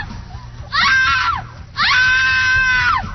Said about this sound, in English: Best Halloween woman scream.